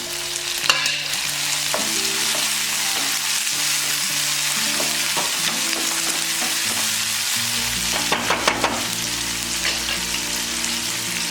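Shallots, green chillies and tomato frying in a pan, a dense steady sizzle punctuated by spoon scrapes and clinks against the pan, heard up close without any talk.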